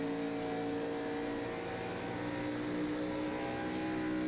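Stock car engines at Atlanta Motor Speedway in iRacing, a steady droning roar with tonal whine as cars struggle for traction on throttle, continuous and moderately faint.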